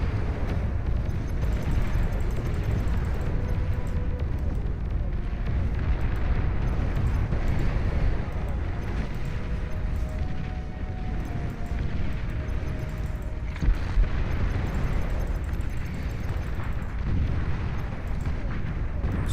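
Rumbling explosions and booming weapon fire from a video game battle, including scorpion turrets, roll on as a dense, loud and continuous low roar for the whole stretch, with no clear gaps between blasts.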